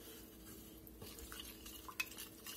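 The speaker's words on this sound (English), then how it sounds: "Get that stirred up there real good" A spoon stirring a sauce of thyme and Louisiana-style hot sauce for New Orleans BBQ shrimp in a pan, quiet scraping and swirling with a few light clinks, faint throughout.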